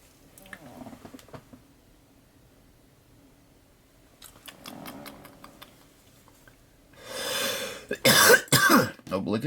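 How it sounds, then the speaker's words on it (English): After a lighter's clicks and quiet handling sounds, a person coughs several times in a loud, harsh burst near the end after taking a smoke. "Obligatory cough."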